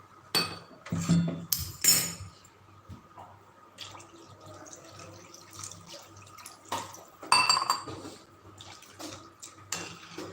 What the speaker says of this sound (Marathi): त्याप्रमाणे पाणी घाला